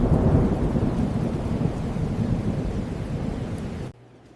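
A thunderstorm with heavy rain on a rural road at night, a steady loud roar of downpour and rumbling thunder that cuts off abruptly near the end.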